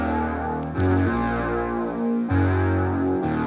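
Thick, buzzing synth tones stacked together in sustained chords that shift pitch a few times, with a distorted, gritty edge.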